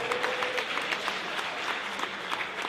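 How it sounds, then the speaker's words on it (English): Audience applause honoring an event organizer at a healing-themed gathering, a steady wash of many hands clapping at moderate distance, continuous for the whole stretch with no talk over it. "Can we please give Shawana a round of applause?"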